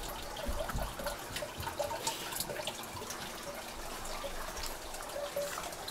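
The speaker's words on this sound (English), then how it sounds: "You can see the clean water coming out that end." Clean water trickles steadily from the outlet of a small homemade filter system at a backyard turtle pond, a continuous close splashing flow with no voices.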